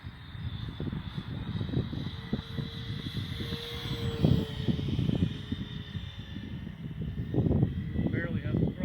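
An HBK Goblin RC airplane flying fast, its high-pitched motor whining steadily overhead and shifting slightly in pitch as it passes, heard under a voice and rustling wind.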